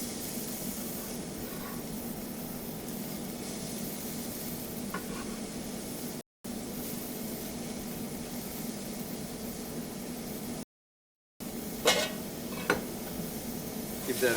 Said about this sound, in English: once we get that oil up to temp and we don't want to burn it, we'll add our shallot first